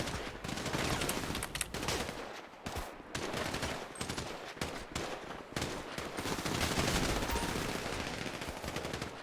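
An intense gunfight in the video game Zombie Survival Rush: loud, continuous automatic gunfire that barely pauses, with dense overlapping shots filling the whole stretch and no voices.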